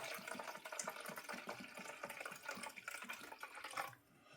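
Seagram 7 whiskey being poured and measured out to 4.5 ounces, a steady liquid trickle with small clinks, continuous for about four seconds before easing off.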